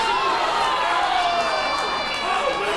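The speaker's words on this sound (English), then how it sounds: "And the crowd here, clapping, showing their respect." Crowd at an independent wrestling show clapping and cheering in a busy arena, a continuous wash of applause and scattered shouts with whistling tones, while an excited commentator talks over it.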